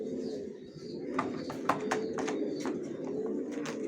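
Young racer pigeon chicks coo in a soft, steady, low murmur, with scattered sharp clicks and flutters breaking in close by.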